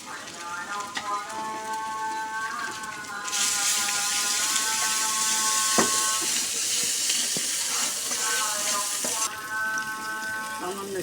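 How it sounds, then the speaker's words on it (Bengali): Water splashed into a hot pan of oil and spices (turmeric and chili powder) for a tilapia curry with sweet pumpkin, bursting into a loud steady sizzling hiss for several seconds before easing, with a person talking throughout. "সামান্য একটু পানি দিলাম"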